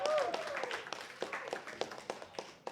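Scattered audience applause at The Listening Room, a music evening, for a performer: a thin, fairly quiet patter of individual claps with irregular sharp hits, fading slightly, while a voice briefly speaks at the start.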